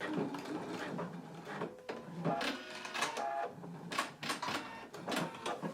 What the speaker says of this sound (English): now we can go ahead and stitch it closed